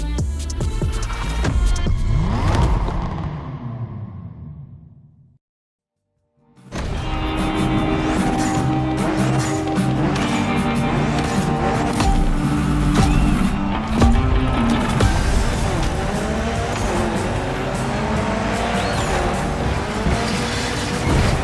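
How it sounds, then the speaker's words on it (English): A Mitsubishi Evo 9 rally car driven hard through a gymkhana course in a racing video game, with revving engine, tire squeals and skids under a music track, cut by a brief moment of silence. "Remember that Evo 9? Well, Ron and the boys finally finished building it."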